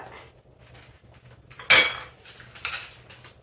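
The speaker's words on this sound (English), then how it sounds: "This bowl is really heavy, so I'm using a spoon to do it." A spoon scraping soup ingredients out of a heavy bowl makes two sharp clinking scrapes of metal against the dish over a quiet background.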